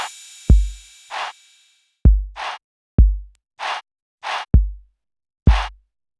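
Drums run through a Sound Toys Decapitator saturation plugin for extra punch and attitude: heavy kick thumps alternate with crisp, bright snare cracks in a steady pattern, loud and close with no voices.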